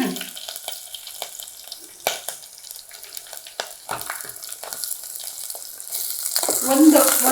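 Onion and green chilli fry in a pan, a close crackling sizzle with scattered stirring scrapes and taps that builds louder toward the end.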